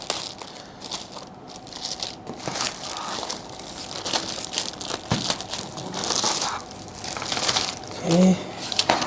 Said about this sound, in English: Just open this plastic without trying to tear it too much.